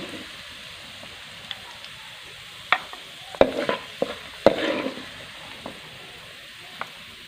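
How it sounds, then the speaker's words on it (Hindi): Soft, steady sizzling of carrots frying in oil, with a handful of sharp clinks and a brief burst of crackling in the middle; no talking. "थोड़ा सा नरमाइश के लिए इसको सबसे पहले हम फ्राई करेंगे"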